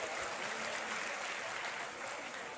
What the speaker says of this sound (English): give a huge round of applause for the quiz master of Cognitio